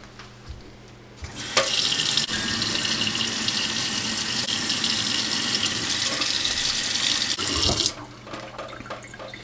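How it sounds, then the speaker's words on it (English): Tap water runs steadily into a sink to soak an acid-etched knife blade, a loud, continuous broadband rush that starts abruptly and cuts off near the end, with faint handling clatter before and after. "a good way to neutralize it is just soak it in water"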